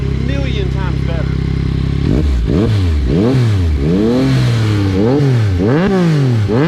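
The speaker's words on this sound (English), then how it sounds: "How do you like the unique sound of the 3-cylinder?" A 2022 Yamaha MT-09 Tracer GT three-cylinder with an aftermarket exhaust, warm and close, idles steadily, then revs hard over and over in sharp rising and falling sweeps.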